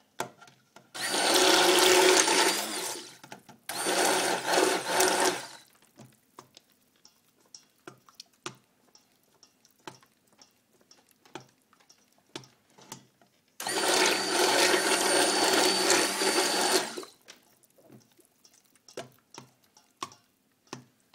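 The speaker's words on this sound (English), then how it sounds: "Stick blender." Stick blender whirring through coffee cold process soap batter in bursts: two loud runs close together, a long pause filled with faint clicks and taps, then another sustained burst.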